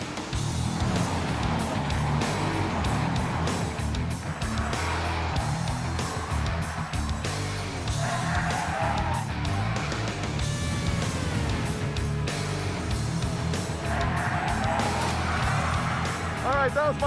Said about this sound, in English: Scrubbed the tire bad.